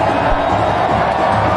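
A T20 cricket crowd cheers and roars in a steady, loud, continuous wash of massed voices, with no breaks through the whole stretch.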